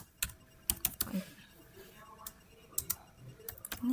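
Computer keyboard typing at a desk: scattered quiet key clicks in short bursts, ending with a few sharper presses like hitting enter, with faint speech in the background.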